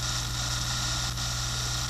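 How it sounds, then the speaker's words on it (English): A pillow block bearing heard through a vibration transducer mounted on it gives a continuous low machine hum with broadband rushing noise, steady and unbroken. "The sound you are hearing is from the pillar block bearing we have the transducer mounted on."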